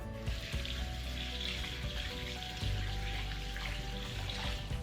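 Salted eggs, cured in a mix of scrubbing ash and salt, being rinsed under a running tap: a steady splashing stream of water with occasional soft knocks as the eggs are handled.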